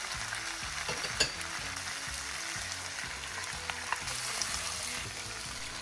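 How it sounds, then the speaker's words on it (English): Carrots and bok choy stir-frying in a pan for pancit habhab give a steady close sizzle, with irregular clinks and scrapes from stirring throughout and no talking. "Continue to stir fry at least 30 seconds."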